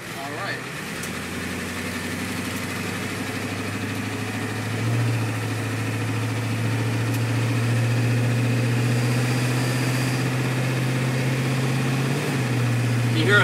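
A 1989 Ford E-350 van with a 7.3L IDI diesel engine drones steadily as its automatic transmission shifts, the low engine note stepping up partway through and then holding loud and close.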